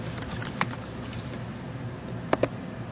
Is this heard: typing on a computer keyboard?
yes